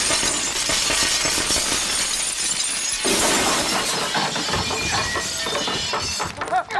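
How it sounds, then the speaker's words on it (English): Sheets of glass shatter one after another during a fight scene in John Wick 3, a loud, continuous cascade of crashing and tinkling shards that surges again midway and fades at the end. "Jackie Chan's like falling through like different sheets of glass, and it's like poof, poof, poof, poof."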